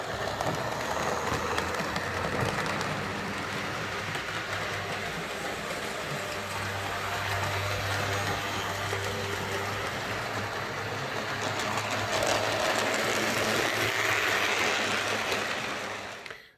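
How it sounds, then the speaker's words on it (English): A Hornby R055 LMS Class 4P 2-6-4T model locomotive in maroon livery runs smoothly with coaches, a steady close whirring rumble of motor and wheels continuing without a break. "So there is my Hornby R055 LMS Class 4P264T locomotive, running nice and quiet and smooth now"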